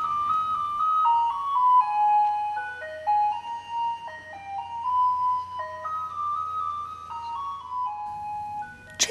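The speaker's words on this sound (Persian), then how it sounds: "انتخاب موسیقی ماشین‌های جمع‌آوری زباله" The musical jingle played by Tehran's garbage collection trucks: a bright electronic melody of stepped, sustained notes that runs continuously, clear and fairly loud, with no talking.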